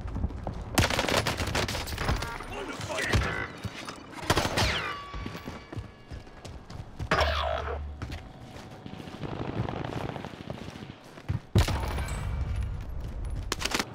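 KRIG rifle gunfire in a multiplayer shooter game, loud rapid bursts of automatic shots in several volleys with short pauses between them, close and dominant throughout.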